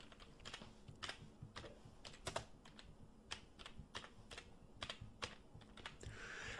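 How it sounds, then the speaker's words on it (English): Typing on a computer keyboard while entering data into home finance software: a steady run of soft, close key clicks at an uneven pace, quiet and without any voice. "and we type it in."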